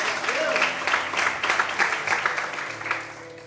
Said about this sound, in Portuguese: Você pode aplaudir o Senhor nessa noite.